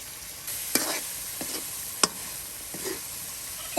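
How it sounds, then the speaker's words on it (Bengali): Fish cooks down with spices in a pan, a steady close sizzle broken by several sharp spatula clicks and scrapes at irregular intervals, with no voices. "মশলার সাথে মাছগুলো দিয়ে কষানো হবে"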